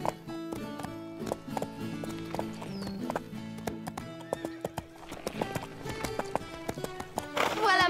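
Horse hooves clip-clop in a quick, uneven rhythm close by, with a brief whinny near the end, over a bed of background music.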